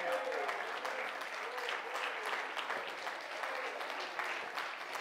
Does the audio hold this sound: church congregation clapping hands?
yes